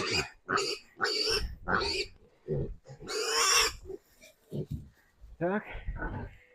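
Piglets squeal loudly in a pen during weaning and deworming. The shrill, harsh bursts come in quick repeated bouts, with one long, piercing squeal in the middle, mixed with grunts and people talking nearby.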